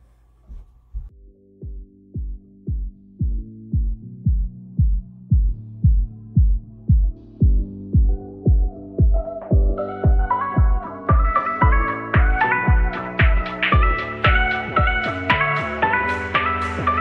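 A sewing machine stitches a patch onto fabric, its needle running in steady repeated pulses that start slow and speed up into a fast, continuous chatter, close and loud with no talking.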